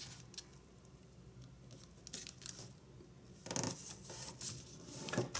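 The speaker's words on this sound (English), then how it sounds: "let's fold this flap up so that this edge aligns with this crease" Origami paper being folded and creased by hand, soft crinkles and rustles rising into a few louder crisp paper crackles near the end, close and quiet, no talking.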